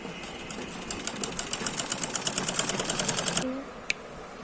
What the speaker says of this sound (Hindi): यहाँ के बाद हम थोड़े आधा इंच की दूरी पर एक एक्स्ट्रा सिलाई लगा देंगे